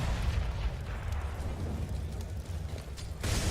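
A grenade bounces in and detonates during a professional CS:GO match, a broad rumbling blast under steady game noise, followed by a sharp bright burst at the end.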